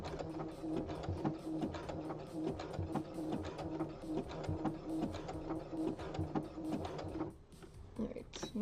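A sewing machine backstitches a cosplay bodysuit with a steady, close mechanical whirr and rapid ticking that runs for about seven seconds, then stops briefly before starting again.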